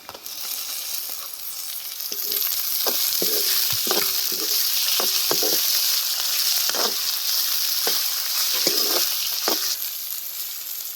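Chopped tomato fries in a ginger-garlic-coconut paste, producing a steady bright sizzle with repeated spatula scrapes and knocks against the pan as it is stirred; close and continuous, no talking.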